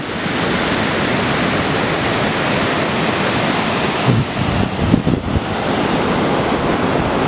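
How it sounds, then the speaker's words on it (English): Ocean surf breaks on the Outer Banks shore, a loud, continuous roaring wash of five-foot waves with wind buffeting the microphone and a slightly stronger surge near the middle. "But we got 5-foot waves out here"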